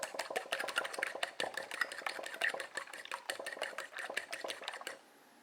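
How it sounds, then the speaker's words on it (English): Eggs whisked with a fork, fast steady clinking taps against a bowl, close and continuous for about five seconds before stopping, with no talking. "the eggs, I always like to just whisk them up like this with a fork"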